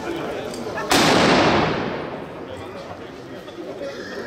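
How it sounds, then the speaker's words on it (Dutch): Ceremonial small cannons fire a salute at the opening of the Kerkrade carnival season: one sharp loud blast rolls into a long echoing decay over outdoor crowd noise. "Dat waren dan de 11 kanonsjes"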